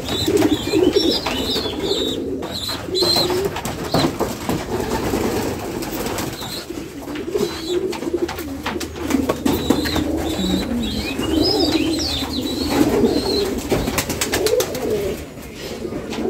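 Doves coo on a hot rooftop at midday, with repeated soft rolling coos rising close by over a busy background of rustling and handling noise.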